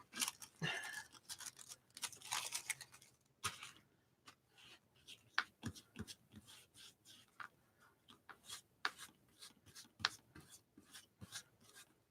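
Scissors trimming paper for a postcard collage, a run of quiet snips and rustling paper scrapes in irregular bursts, close and faint.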